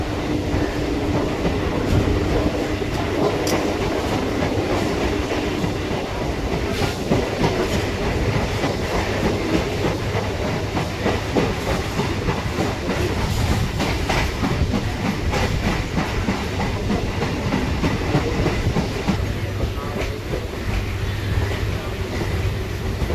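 A Kolkata circular rail local train on the Majherhat to Dum Dum run pulls out of Bagbazar station, giving a loud, steady rumble with continuous clickety-clack of wheels over rail joints throughout.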